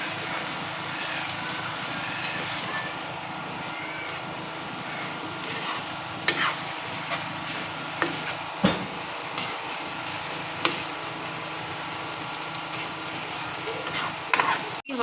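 Cabbage and capsicum stir-fried in a pan for restaurant-style Chinese rice, with a steady close sizzle throughout and occasional sharp knocks of the spoon against the pan.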